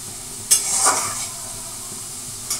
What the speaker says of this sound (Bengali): আমার আলুগুলো ভালো করে ভাজা হয়ে গেছে